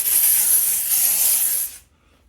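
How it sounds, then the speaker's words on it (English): Spray bottle misting houseplant leaves and a pet living-room lizard, a steady close hissing spray lasting under two seconds and then cutting off, with no talking. "when you spray the leaves and you can spray him"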